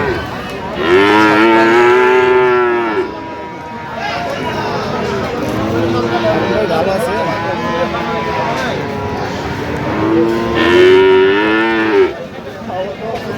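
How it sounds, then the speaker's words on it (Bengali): A Friesian bull calf at a cattle market in Aftabganj, Dinajpur moos loudly twice, near and drawn out, with a crowd chattering in the background and voices talking between the calls. "ফ্রিজিয়ামের ষাঁড় বাচ্চা।"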